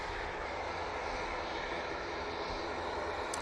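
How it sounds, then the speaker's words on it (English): A Ryanair airliner arriving from Shannon roars past at Manchester Airport, its jet engines a loud, continuous broadband rush that stays constant throughout the short stretch, with no voices. "Next in will be the Ryanair coming in from Shannon."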